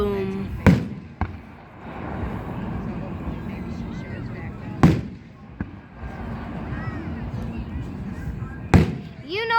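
Fireworks burst in the sky with three heavy booms spaced a few seconds apart, over a steady crowd murmur, while a voice talks between the explosions.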